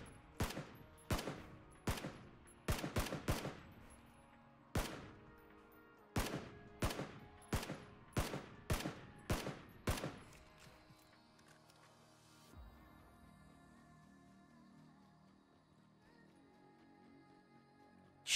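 In the video game PUBG, a string of sharp single gunshots rings out in an uneven rhythm, about a dozen loud cracks over ten seconds. A quieter, ringing stretch with no shots follows, and no one speaks.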